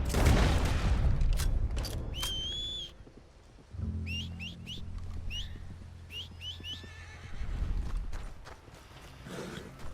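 Horse in Red Dead Redemption 2 whinnying in short rising bursts over galloping hooves and game ambience, with sharp chirps and a low rumble in between; fairly close and loud.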